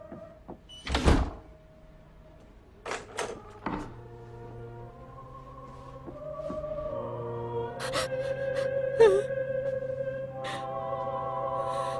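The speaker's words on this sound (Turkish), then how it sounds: "Kapıyı kilitle. Kapıyı kilitle." A door thumps shut, then mechanical clicks and rattles follow as it is locked, with a low hum and a faint gasp underneath, all heard close and without speech.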